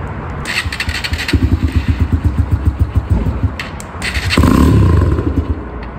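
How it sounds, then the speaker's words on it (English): A carbureted motorcycle is started with the choke on: a close, steady run of rhythmic starter cranking pulses goes on for a few seconds, then the engine catches and roars up loudly before settling. "Stupid-ass carbureted bike's gonna find the perfect position for the choke"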